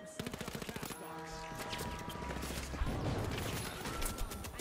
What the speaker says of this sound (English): There, 30 damage from the turret instantly.